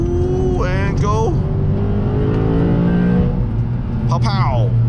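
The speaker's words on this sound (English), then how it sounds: "Exhaust pow pow. I love the exhaust." Lexus RC F with a V8 accelerating on a mountain road, its revving engine rising and falling in pitch under steady road noise, heard close inside the car while someone talks over it.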